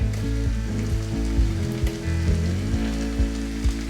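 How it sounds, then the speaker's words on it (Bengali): Chopped tomato drops into onions frying in oil for a mushroom and pea curry, raising a steady, close sizzle with occasional stirring knocks running through the whole clip. "এখন আমি এর মধ্যে দিয়ে দিচ্ছি যে টমেটো কুচোটা আমি রেখেছিলাম সেই টমেটো কুচোটা"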